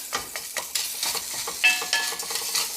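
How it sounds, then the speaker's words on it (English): Sliced onion dropped into a hot pot for Mexican-style vermicelli soup, giving soft crackling sizzle and stirring scrapes, faint and close with short bursts. "Here I'm also going to add some sliced up onion."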